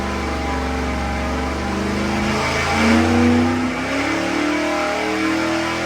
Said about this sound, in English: While the engine's sitting there running on the dyno